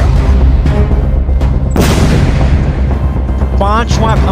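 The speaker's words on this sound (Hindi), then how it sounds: "पांचवा धमाका" A loud, sharp blast breaks out in Gaza during the Israel-Hamas war amid ongoing low rumbling, followed by more distant thuds and faint voices.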